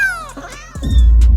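A cat meows once with a clear, falling tone, followed by a burst of louder low rumbling noise that swamps the end.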